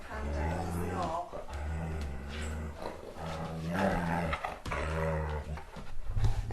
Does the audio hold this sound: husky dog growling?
yes